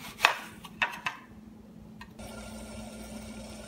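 A knife cuts through soft peeled apples on a kitchen board, giving a few sharp, close cuts in the first second. A steady low hum follows.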